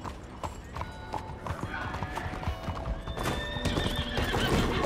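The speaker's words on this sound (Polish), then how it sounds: "Chcesz powiedzieć, że twój brudny koń bryka?" Horse hooves clip-clopping in the video game Red Dead Online, a steady close run of hoofbeats with whinnying and neighs rising over a busy, continuous game soundscape, without speech.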